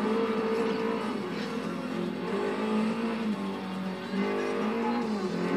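An off-road rally car engine in the Forza Horizon video game drones and revs continuously, its pitch rising and falling as it accelerates, loud and close with no talk over it.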